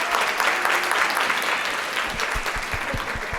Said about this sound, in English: Can we clap it up for our girls, for our young people?